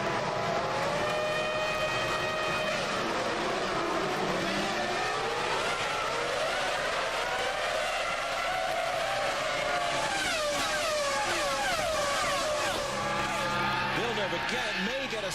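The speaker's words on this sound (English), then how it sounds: "here we go with the start of the Spanish Grand Prix" Formula One cars in the F1 2000 video game launch off the grid at the Spanish Grand Prix, a loud dense chorus of high-revving engines sweeping up and down in pitch, with commentary over it.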